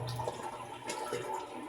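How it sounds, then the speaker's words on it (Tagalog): Water poured into a pot of brown rice, a soft continuous splashing gurgle that is faint and unbroken for under two seconds, no talking. "Lagyan na natin siya ng water."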